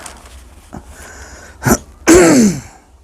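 A few short throaty coughs build into one harsh, wheezy burst up close, with no talking.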